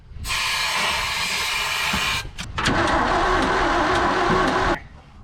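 Stuck engine of an abandoned 1978 Ford F250 crew cab being cranked with no sign of firing, two hissing, whirring starter bursts close by, the second one longer, and no talking.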